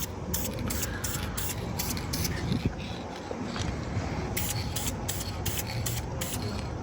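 Short bursts of aerosol spray paint hiss in repeated pulses over Brembo brake calipers, close and steady against a broad, noisy background, with brief pauses between passes.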